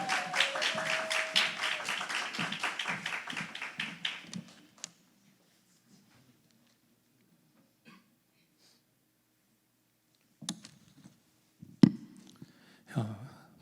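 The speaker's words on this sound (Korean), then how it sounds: "큰 박수 부탁드립니다." Applause from a church congregation at a Friday worship service: rapid, dense clapping for about four seconds, then near silence with a few later thumps and brief voices.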